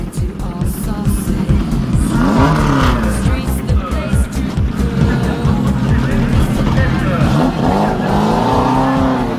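Race cars at the start of a 2003 hill climb in Arques-la-Bataille, France, rev hard with rising and falling engine pitch, tire squeals and continuous loud close-range roaring.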